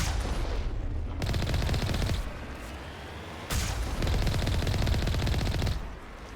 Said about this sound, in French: ça se tire dessus déjà